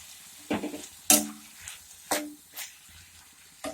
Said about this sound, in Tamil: தக்காளி வெங்காயம் நல்லா வதங்கணுங்க